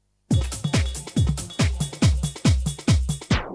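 A chopped drum-and-music beat looped eight times in quick, even repetition, each hit a punchy transient with a short tail, the final repeat played in reverse so it swells up and cuts off abruptly.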